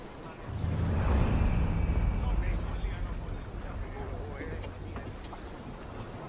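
A sailing ship moves across open sea in Assassin's Creed, with broad rumbling wind and water noise that swells early and then settles into a steady wash, and a voice speaks over it.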